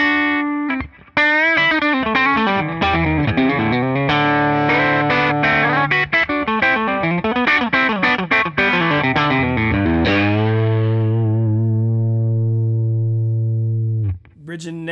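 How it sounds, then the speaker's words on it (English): Pink paisley relic T-style electric guitar from Crook Custom, played through effects with a distorted, chorus-tinged tone; fast picked runs and chords, then a long sustained note fading out before a brief final strum. "a Crook Custom Relic T-Style Paisley Finish guitar"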